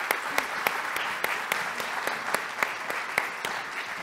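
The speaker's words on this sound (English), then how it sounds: "I ask the audience to give a round of applause for Iven" An audience at an agriculture talk at ExpoAgua in Santiago applauds a speaker, steady close clapping with sharp individual claps standing out at a regular beat, no talking.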